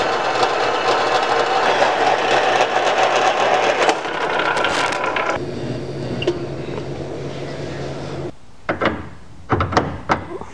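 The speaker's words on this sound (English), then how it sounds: "Now I'll go cut it on the bandsaw and then weld it into the splines." A bandsaw cuts through a Corvette steering shaft in a workshop, a loud continuous grinding whine for several seconds that stops abruptly, followed by a few sharp metallic clanks.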